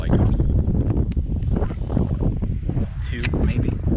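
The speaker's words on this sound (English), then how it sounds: "there's a good amount of wind out here right now" Strong wind buffets the microphone outdoors on a fishing trip, a loud steady low roar with gusty swells throughout, alone without talk.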